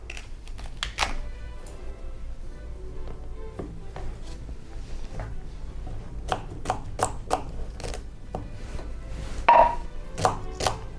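Celery being chopped with a knife on a board for corn chowder, a run of crisp close taps with an uneven rhythm and no talking.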